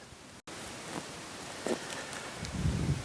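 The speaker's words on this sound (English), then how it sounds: "It's a little windy here," Steady wind buffets the microphone outdoors on a rainy day, a broad constant rush with faint rustling gusts, no voices.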